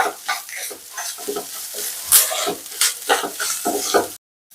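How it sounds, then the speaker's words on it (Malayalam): Grated coconut being stirred and dry-roasted in a hot pan, a spoon scraping and rustling in repeated strokes with a light sizzle, close and continuous until it stops abruptly near the end. "അതിന് പച്ചപ്പ് മാറാൻ വേണ്ടി ഞാനൊന്ന് ഇളക്കിയതാട്ടോ"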